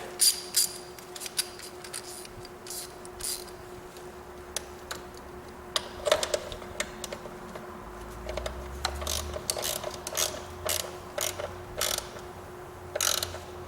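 A ratchet tightens the battery hold-down on a 1988 Chevrolet C4 Corvette, making close, quiet clicking in short irregular bursts over a faint steady hum.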